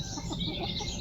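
Chickens clucking on a 4-acre farm in Spain, a soft, steady mix of close clucks and murmurs over low background noise, with no talk.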